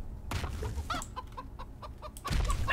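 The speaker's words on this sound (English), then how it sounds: "Monster chicken got him." A monster chicken clucking in the Kaiju BR video game: a string of loud, rapid clucks and squawks close by, with game rumble and thuds underneath.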